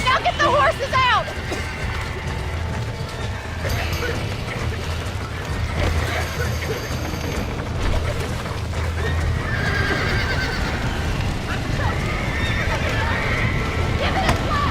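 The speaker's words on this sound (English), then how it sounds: "Now get the horses out!" Horses neigh and whinny in the Red Dead Redemption video game, with hooves clip-clopping and mechanical clanking under shouted voices throughout.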